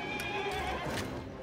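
A carriage horse whinnies loudly in Assassin's Creed, set in London, the neigh rising over clopping hooves and busy street ambience, close and continuous throughout.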